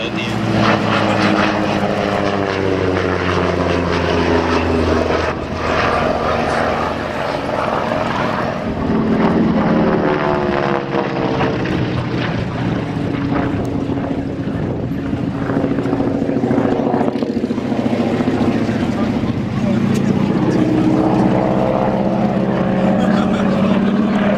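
North American Harvard propeller trainer flying overhead at the Old Warden flying festival, a loud droning engine and prop growl with shifting pitch as it passes, sustained throughout.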